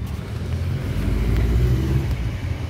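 Many vehicles on a highway toward the coastal road, a steady loud rumble of passing cars that swells toward the middle, with no talk.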